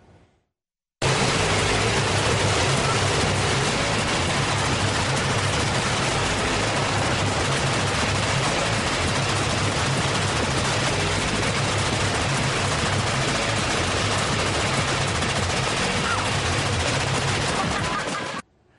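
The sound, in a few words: fully automatic gunfire at Oklahoma Full Auto Shoot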